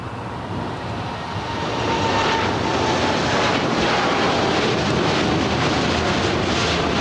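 Heavy Boeing 747 airliner at LAX in position on the runway, a steady broadband engine roar that swells after about two seconds and holds loud and even, with no talk.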